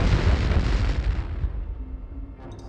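A grenade launcher round explodes in the video game Turok 2, a heavy, rumbling blast that opens loud and close and then decays into a fading roar over about two seconds.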